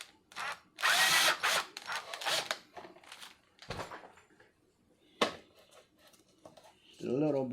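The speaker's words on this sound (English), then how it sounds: "I need to drill a little bit more" A power drill whirs in a few short bursts, close by, while fitting a carbon rear diffuser, with pauses between, and a person speaks briefly near the end.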